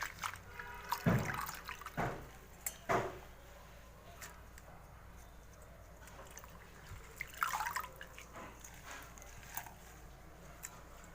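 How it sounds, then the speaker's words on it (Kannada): Hair tonic ingredients being rinsed in water several times, giving faint, intermittent splashes and drips with quiet pauses between them and no talking. "ನೀರಿನಲ್ಲಿ ನೀಟಾಗಿ ಮೂರರಿಂದ ನಾಲ್ಕು ಬಾರಿ ನೀರು ಹಾಕಿ ತೊಳೆಯಬೇಕು"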